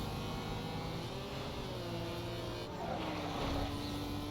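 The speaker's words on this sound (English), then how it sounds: "I could literally tell the engine got louder after this last upgrade" The engine of an upgraded Audi TT drones and revs steadily in Need for Speed Most Wanted, a continuous mid-level hum with pitch rising and falling, sitting low under other game sound.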